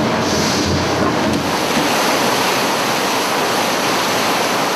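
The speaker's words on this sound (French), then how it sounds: "c'est le bruit des roues à aubes, comme au bon vieux temps." Paddle wheels of an old Nile paddle steamer churn the water in a constant loud, rushing wash, close by and steady throughout with no voices.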